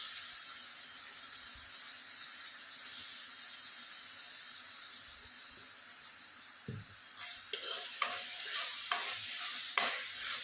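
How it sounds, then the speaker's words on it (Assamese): A steady sizzle of fish frying in a pan hisses throughout, joined near the end by a few sharp scrapes of stirring. "এইখিনি মই অলপ সময় 5 মিনিটমান ভাজি ল'ম"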